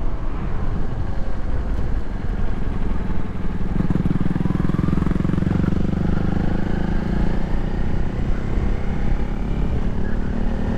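A Kawasaki Ninja 400 motorcycle on the move gives a steady, loud engine drone with wind rush, holding at an even pitch for the whole stretch.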